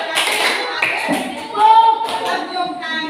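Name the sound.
class clapping hands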